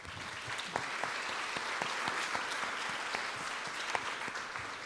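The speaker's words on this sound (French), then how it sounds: "On applaudit encore." Sustained applause from an audience at a talk on understanding Corsica, dense steady clapping with occasional sharper individual claps standing out, filling the whole stretch at an even level.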